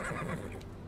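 Horse in Sherlock Holmes The Awakened giving a short, close neigh with a whinnying rise, lasting under a second.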